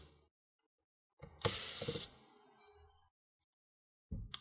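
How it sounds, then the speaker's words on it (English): A small screwdriver works loose the two hard drive screws on an Asus X455L laptop, making a close metallic ratcheting click and scrape with a brief rattle, isolated bursts set against near silence. "So you go ahead and remove 2 screws for the hard drive."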